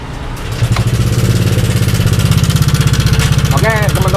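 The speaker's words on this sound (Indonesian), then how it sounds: "teman-teman bisa dengar sendiri ya suara mesinnya ya. Berisik banget ya." A noisy Yamaha Aerox scooter engine starts and then idles close by, a loud rapid rattling throb that stays steady, with a voice speaking near the end.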